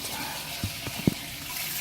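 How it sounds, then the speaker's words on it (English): Water rushes at full flow into a toilet tank during a flapper fix, a steady broadband gush close by, with a few small knocks from parts around the tank. "So turn the water back on,"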